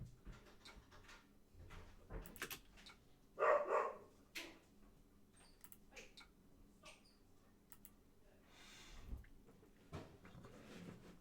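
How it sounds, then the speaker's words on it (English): A dog barks in a quiet room during a tabletop card game: a brief burst of a few loud barks partway through, with scattered clicks and soft handling noises before and after. "while the dog kicks off"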